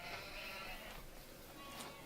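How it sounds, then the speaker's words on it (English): Sheep bleat faintly in a Farming Simulator 17 farmyard, a couple of soft, brief calls over a low background hum. "Happy sheep. Sort of walking around."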